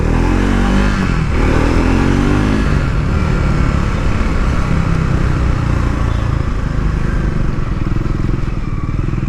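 A Triumph Scrambler 400X motorcycle rumbles steadily while riding in traffic, its engine loud and close throughout with a continuous throbbing drone and slight rises in revs, no talking heard.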